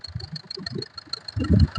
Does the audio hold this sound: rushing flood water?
no